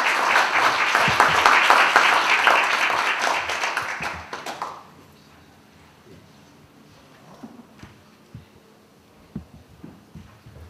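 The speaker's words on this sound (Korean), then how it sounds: "박수로 환영해 주시기 바랍니다." Loud, dense applause from a large audience at a conference welcoming a speaker fills the first few seconds, then fades out and leaves a quiet room with scattered small noises.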